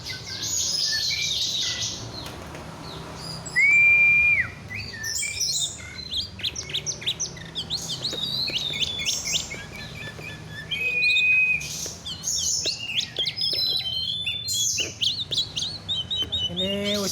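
A 7-month-old oriental magpie-robin (kacer) sings close by in varied, rapid phrases of bright whistles, trills and chirps, with sustained pure whistled notes repeating through the song.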